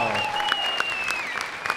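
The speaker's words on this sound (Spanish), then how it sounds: "Amigos, por favor, un aplauso para Ricardo." An audience claps for a guest named Ricardo on a Spanish-language talk show, steady applause over a low musical tone, with a few sharper claps standing out.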